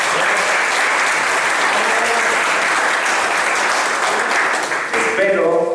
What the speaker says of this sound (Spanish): para quien pido un gran aplauso